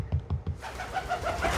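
A pet pigeon coos several times close by, a few soft low pulses followed by a busier burst of throaty murmuring indoors.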